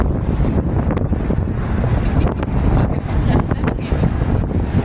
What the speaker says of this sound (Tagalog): Mahangin na dito.